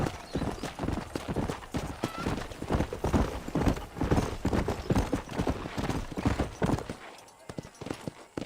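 A horse ridden at a brisk pace in the Western game Red Dead Redemption, a steady rhythmic clip-clop of hooves, close and fairly loud, with a snort or whinny and voices talking over it.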